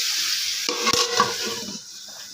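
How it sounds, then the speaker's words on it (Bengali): Water poured into a hot pan of soybean curry sends up a loud burst of close, hissing sizzle that fades over a couple of seconds, with a brief stirring scrape in the middle. "জল দিয়ে দিলাম"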